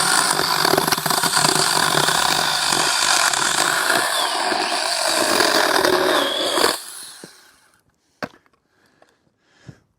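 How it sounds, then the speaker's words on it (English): Small chainsaw cutting up dead wood at a campsite, a loud close buzzing whine that runs steadily for several seconds and then cuts off, followed by a few sharp knocks of wood. "this little saw is already paid for itself around here. Cut up all this dead wood"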